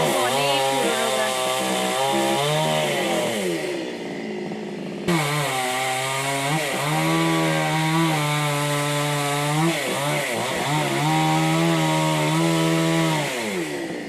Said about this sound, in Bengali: আর ওই যে দাদাটা ওই মেশিন দিয়ে কাটছে ওইগুলো।